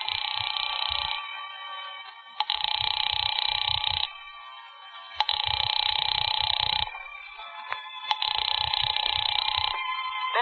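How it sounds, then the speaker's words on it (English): An old radio-drama telephone rings unanswered, four long electronic bursts separated by short pauses, steady and loud with a low hum under each ring. "There's no answer. Shall I keep ringing, sir?"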